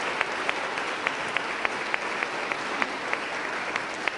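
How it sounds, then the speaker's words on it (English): Lecture audience applauding steadily, a dense even patter of many clapping hands with a few sharper claps standing out, heard alone without talk. "So I just want to give Marie a round of applause."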